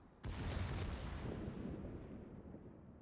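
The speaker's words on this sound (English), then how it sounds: "The secondaries open up at the destroyer" Battleship secondary guns firing at a destroyer in World of Warships, aboard the Gneisenau; one sudden loud blast followed by a long, booming rumble that slowly fades over a few seconds.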